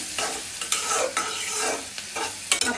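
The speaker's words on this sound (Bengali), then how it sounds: "এখন এই পেঁয়াজ রসুনটা ভেজে নেবো" Chopped onion and garlic frying in hot oil in a wok, a continuous sizzle broken by repeated stirring scrapes at an uneven rhythm, close and moderately loud with no voices.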